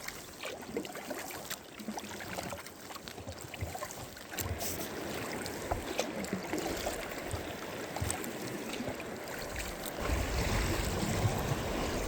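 Continuous rushing wash of lake water and waves breaking nearby on Lake Vänern, Sweden, steady and loud, with a rougher surge toward the end.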